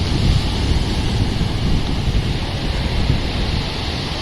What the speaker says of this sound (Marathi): आता ती लाट आली बघ ती लाट